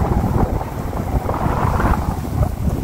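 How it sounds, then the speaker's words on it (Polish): Steady wind buffeting the microphone at an open-pit dolomite quarry, a continuous low rumbling roar with gusty swells throughout and no voices. "ale wiatr tam jest"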